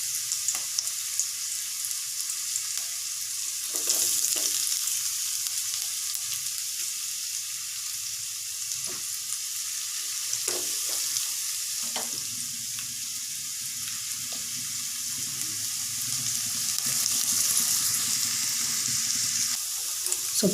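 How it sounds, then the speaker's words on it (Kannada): Onion, green chilli and curry leaves frying in a pan: a continuous bright sizzle over a low hum for about twenty seconds, with a few scattered knocks and stirs, close by and with no voices. "ಈರುಳ್ಳಿ, ಹಸಿಮೆಣಸಿನ್ಕಾಯಿ, ಸ್ವಲ್ಪ ಕರಿಬೇವು ಇದನ್ನ ಹಾಕೊಂಡು ಚೆನ್ನಾಗಿ 1 ನಿಮಿಷ ಚೆನ್ನಾಗಿ ಫ್ರೈ ಮಾಡಬೇಕು"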